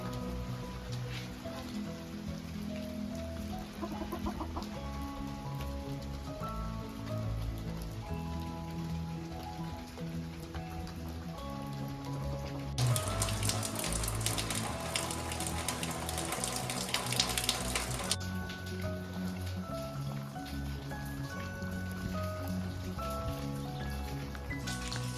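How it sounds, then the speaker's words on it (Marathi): Steady rain patters continuously throughout, with a denser, louder burst of hiss in the middle before settling back to an even downpour. "पावसाने थोपावचा काय नाव नाही घेतला"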